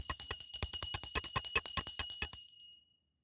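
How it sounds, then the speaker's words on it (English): A small bell is rung to clear the energy before a tarot reading: about a dozen quick, bright strikes over two and a half seconds, with a high shimmering ring that fades out after the last strike. No other sound is heard. "before I start this reading, I'm going to clear the energy with a bell"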